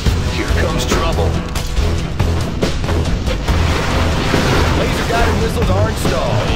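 Missile launch and blasts in Command & Conquer Generals Zero Hour, a USA versus China and GLA battle, with dense continuous booms and rumbling explosions layered under unit voice lines and battle noise throughout.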